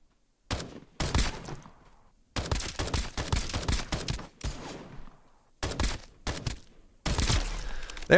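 Sharp bursts of rapid gunfire in the video game Escape From Duckov come in five or six separate volleys during a boss fight, each loud and close, broken by short silences.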